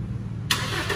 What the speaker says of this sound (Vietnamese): Gương mở ra và máy nổ lên.